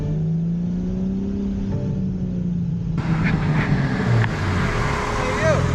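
Large RC car driving off down a road, its motor whining as it pulls away and climbs in pitch, with a rougher, louder stretch of rolling noise partway through.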